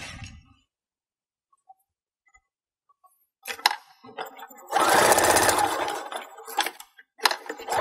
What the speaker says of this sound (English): and I'm going to sew them together